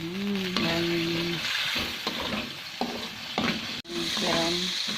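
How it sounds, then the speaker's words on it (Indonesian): Oysters stir-fried with spring onion and green chili in a pan, Aceh style: steady close sizzling with the scrape of a utensil stirring, alongside tonal chirps and a brief sharp click near the end. "tumis tiram sama daun bawang."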